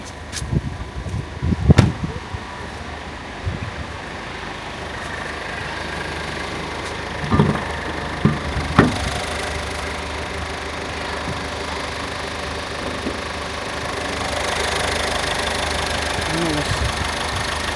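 A 1.5-litre four-cylinder turbo diesel engine in a Peugeot 2008 1.5 BlueHDi idles with a steady low rumble and faint ticking, punctuated by a few knocks and handling noises, growing slightly louder near the end.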